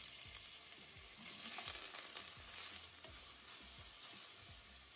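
Steady soft sizzling of sliced onion frying in oil in a pressure cooker, with occasional stirring scrapes, close and fairly quiet, no voices.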